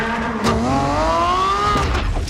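A V12 engine revs hard and climbs in pitch, a loud, close, harmonic howl rising over about a second and a half before dropping off.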